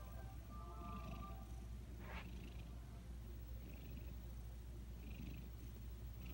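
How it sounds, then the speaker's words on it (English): A cat purring softly and continuously, a low steady rumble close by, with a few faint higher sounds in the background. "I hear you purring."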